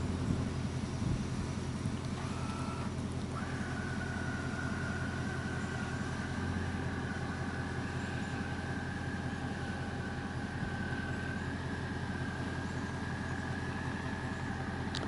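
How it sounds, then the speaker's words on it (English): Travel trailer awning retracting under remote control on a Cherokee 254Q: a steady motor whine runs alone throughout, with a faint click as it starts. "And that's the remote, and we'll close the awning."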